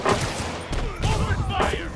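Gunfire from enemies in the video game Marvel's Spider-Man, heard as a dense run of shots and booms amid game sound effects and music, moderately loud and continuous throughout.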